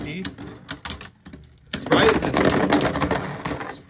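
Hasbro Beyblade Burst tops, Luminor against Spryzen, clatter together in a stadium, with sharp ticking clicks and then a dense burst of loud metallic rattling near the end. People talk over the collisions.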